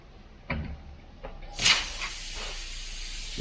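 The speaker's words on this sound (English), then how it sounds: "You can hear the air coming out." Air hisses out of a car tire around a roofing nail lodged in the tread: a sharp, bright burst near the middle, preceded by a few light clicks and handling thumps, then a softer steady hiss that lingers close by.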